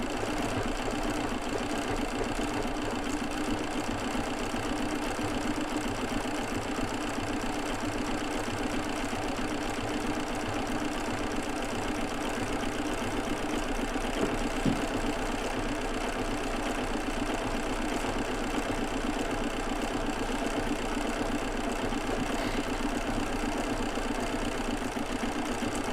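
A Bernina B990 embroidery machine stitches out a rag doll design, a steady, continuous mechanical hum with fine rapid needle rhythm running close and unbroken throughout.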